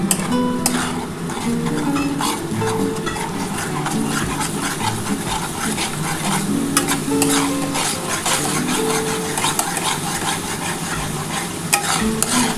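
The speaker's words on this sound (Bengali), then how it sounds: "এবার এটা ভালো করে কিন্তু কষাতে হবে।" Spiced masala for an egg omelette curry sautéing in a pan, with continuous sizzling and frequent scraping, clinking stirs of a spoon against the pan, close and steady throughout.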